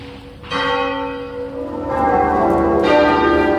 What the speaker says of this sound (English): over the chiming of church bells across the country